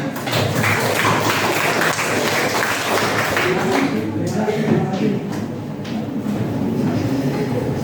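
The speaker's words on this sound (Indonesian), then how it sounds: "Oke, tepuk tangan." Audience applause at an Indonesian motivational talk, a dense steady patter of clapping that carries on through the whole stretch, easing slightly partway, with some voices mixed in underneath.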